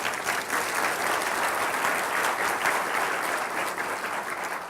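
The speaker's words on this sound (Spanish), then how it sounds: "Dele un aplauso al Rey Jesús" Congregation at a church service applauding, a dense, steady round of clapping that holds at full strength from start to finish with no voices over it.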